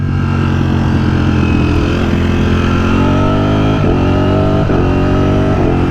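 A Streetfighter motorcycle engine in sport mode pulls hard and loud, its pitch climbing steadily with a few quick dips as gears shift, close and continuous with no talk.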